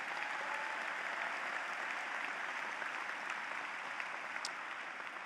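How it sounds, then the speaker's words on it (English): Steady, dense applause from a commencement audience honoring members of the armed forces, a continuous wash of many hands clapping at even loudness throughout, with no speech over it. "Let's have a round of applause for them as well."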